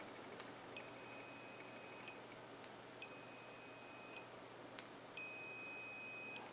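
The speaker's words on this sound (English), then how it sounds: "if I do this and just be quiet, you should hear it beep" Short electronic beeps from a quadcopter ESC during a wiring test, three high tonal bursts about a second long each, repeating at a steady pace with faint clicks between them, quiet and alone over low hum.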